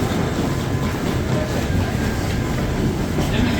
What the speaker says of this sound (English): we're now in the train station